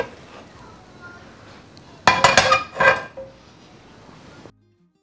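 Börek in a pan being flipped over with a plate: a short burst of clattering, clinking dish and pan knocks lasting about a second, set against quiet background.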